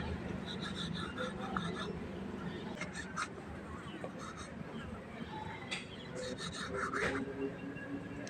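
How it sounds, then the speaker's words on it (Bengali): A sharp knife cuts dough into thin strips for gaja sweets, making soft repeated scraping and rasping strokes over a steady low background. "আর একটু চিকন চিকন কাটো।"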